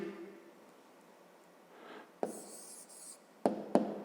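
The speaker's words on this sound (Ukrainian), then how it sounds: "а тепер записуємо відповідь" Answer written by hand during a 5th-grade maths exercise, faint pen-on-paper scratching with a few short strokes and light taps, quiet and close, no talking.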